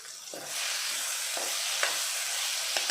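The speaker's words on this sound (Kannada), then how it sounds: "ಟೊಮೆಟೊ ಎಲ್ಲ ಸಾಫ್ಟ್ ಆಗಬೇಕು, ಅಷ್ಟರವರೆಗೆ ಫ್ರೈ ಮಾಡಬೇಕು." Tomato masala fries in a hot pan for a bread masala, giving a steady bright sizzle with a few sharp scraping stirs of a spoon against the pan.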